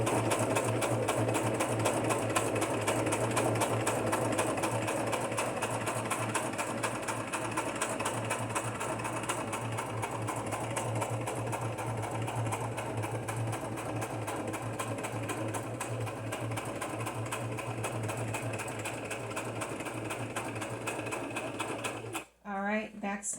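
Sewing machine stitching through a cardstock journal cover, a continuous close, loud whirring rattle with rapid needle ticks, stopping abruptly near the end.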